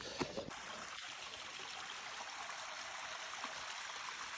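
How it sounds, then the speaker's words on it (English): Running water of a babbling mountain stream along the Elfin Lakes hiking trail, a steady broad rushing and trickling wash that fills the whole moment, close and continuous with no talking. "This is what's known as a stream, potentially a babbling brook or a creek"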